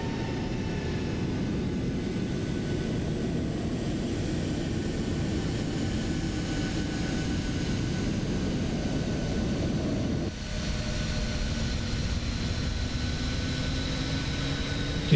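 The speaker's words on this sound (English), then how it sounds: "You can hear the engines pulling down and the APU is pulling up." In a Boeing 737 MAX 8 flight simulator, the engines drone steadily and spool down, then drop away partway through while a smoother APU whine carries on. The sound is loud, continuous and has no talk.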